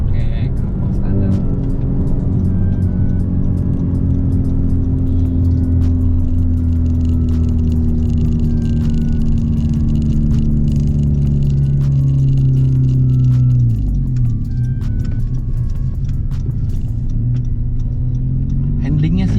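A car with an aftermarket exhaust drones loudly and close, its deep engine note slowly shifting in pitch before dropping sharply and settling again.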